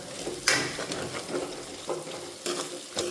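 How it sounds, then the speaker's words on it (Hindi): Onions frying in ghee in a pan for a Rajasthani fresh turmeric curry, a steady close sizzle broken by a few scraping stirs of a spoon. "प्याज को हमें अच्छे से भूनना है, इसलिए मैं पहले डाल दूँ ताकि इसमें बिल्कुल भी कच्चापन नहीं रहे प्याज का।"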